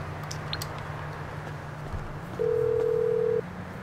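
A phone rings in the game GTA 5 Online as a single steady electronic tone lasting about a second, heard over a low continuous game hum.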